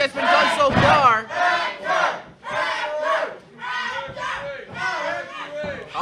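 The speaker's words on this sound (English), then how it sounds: "And the crowd again trying to rally Uncle Hector back into this, but I don't know." A wrestling crowd at an independent show chants in rhythmic, repeated bursts to rally a wrestler, loud and close with short pauses between shouts.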